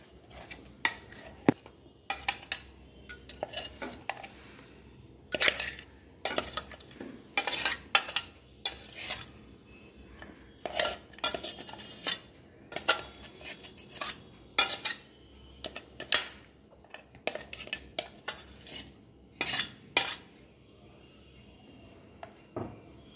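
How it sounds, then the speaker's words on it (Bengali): Ground fish fry spice paste is scraped out of a mixer jar into a bowl, with a long series of sharp metallic clinks and taps from a spoon against the jar, irregular and close, separated by quiet gaps. "এবার এই মিশ্রণটা একটা পাত্রের মধ্যে ঢেলে নিচ্ছি"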